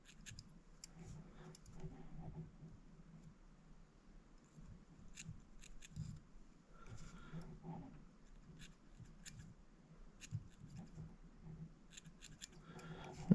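Small scissors snip repeatedly at fly-tying streamer material, a string of quiet, close, crisp cuts in irregular clusters against a near-silent background.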